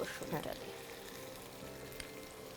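Garlic goes into a hot pan while shrimp bhuna cooks, giving a faint, steady sizzle with a brief clatter of stirring at the start and a soft tick near the end.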